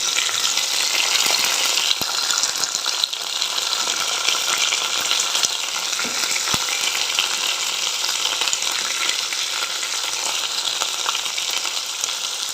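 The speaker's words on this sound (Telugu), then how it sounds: "ఇప్పుడు కొంచెం మంచిగా వేయించుకుందాం" Spinach and amaranth greens with two tomatoes fry in a pan, a steady broadband sizzle with occasional stirring clinks running evenly throughout, close and fairly loud with no talking.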